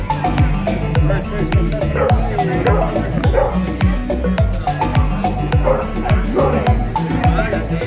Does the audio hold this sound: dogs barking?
yes